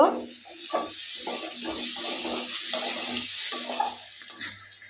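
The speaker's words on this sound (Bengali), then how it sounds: "এবার এর মধ্যে দিয়ে দেব টমেটো কাঁচা লঙ্কা এবার এগুলোকে একটু কষিয়ে নেব" Tomatoes and green chillies sautéing with garlic in a pan for an aar fish kalia, crackling in a steady hiss while a spoon stirs in regular rhythmic strokes, close and alone.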